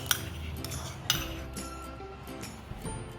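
Cream being whisked in a bowl for pistachio ice cream, with sharp metallic clinks of the whisk against the bowl over a steady low rumble, close and moderately loud, repeating irregularly.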